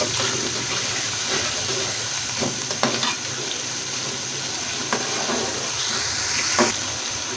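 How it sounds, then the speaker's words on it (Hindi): Sizzling and frying of potato dumpling curry in a pan, with a burst of hissing spatter as water is sprinkled onto the hot surface, plus scattered stirring clicks. "पानी का छट्टा लगाएंगे"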